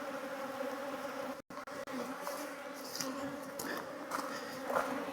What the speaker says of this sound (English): But I guess this is working bees.